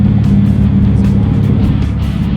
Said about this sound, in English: car is so loud